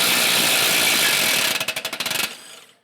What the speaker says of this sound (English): So I use my impact gun on this